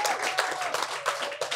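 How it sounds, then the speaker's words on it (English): Audience at a clothing brand's launch event panel talk in Merthyr applauding the guests: a short burst of dense, steady clapping filling the room. "Both guests, round of applause again."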